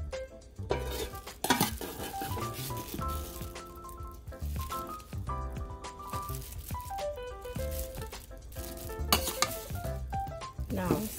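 Purple eggplant sauce cooking in a pan: a steady sizzle with repeated scraping and stirring clatter of a utensil against the pan, continuous and close.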